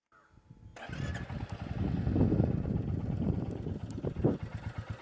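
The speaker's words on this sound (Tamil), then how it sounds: "வண்டியை ஸ்டார்ட் பண்ணியுமே வந்து பார்ப்போம்" A 2025 Royal Enfield Classic 350 starts after a short crank, then settles into a low, steady thumping idle close by. The idle rises once near the end.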